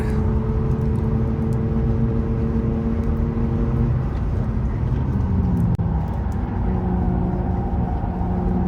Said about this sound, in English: I hope you can hear the motor. Actually, it sounds really good. Classic car.